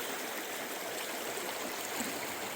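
The McKenzie River flows steadily nearby, a dense, continuous rush of stream water with no pauses and no voices.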